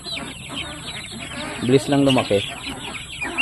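Young black Japanese Shamo chickens cluck in a short burst of close, loud calls in the middle, with someone talking over the flock.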